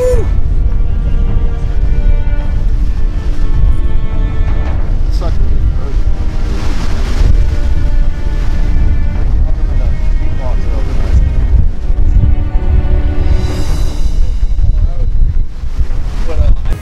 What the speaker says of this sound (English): Is it windy? Brutal weather.